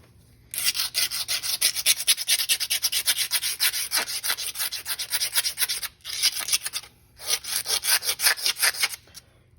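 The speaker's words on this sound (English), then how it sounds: "We'll finish sanding off all this." Hand sanding on the metal cab of an old truck, a loud close rhythmic scraping in fast back-and-forth strokes, running steadily with two brief pauses.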